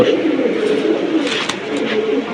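Pigeons offered for sale as flying birds coo steadily and softly, with soft fluttering noise around them.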